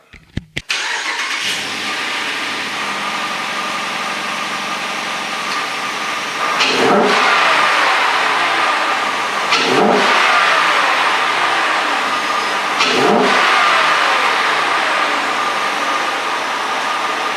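A Dodge Durango R/T's 5.7 Hemi V8 cranks and fires, settles into a loud steady idle, then gets three short blips of revving at regular intervals, each dropping back to idle, with no talking.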